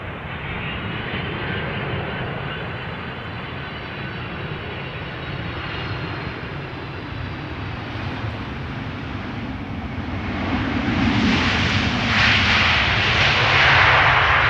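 A Boeing 767-300ER airliner lands at Amsterdam Schiphol, a steady distant engine rumble that grows into a louder, broader roar in the final seconds as it closes in.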